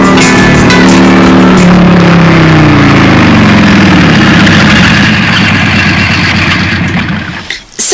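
A motorcycle engine runs at idle, a loud, steady low throbbing hum that holds throughout, then dips briefly near the end.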